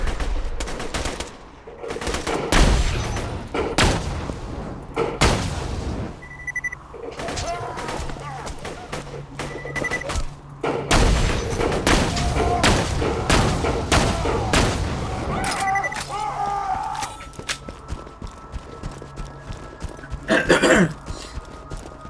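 Gunfire from basic green-rarity weapons in Borderlands 2 as rapid bursts of shots, loud and close, mixed with dense game effects and a speaking voice.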